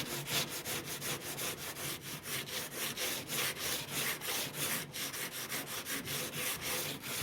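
A coarse scrubber rasps back and forth across a wood cook stove in fast, even strokes, a steady close scratching rhythm that runs without a break and with no voices.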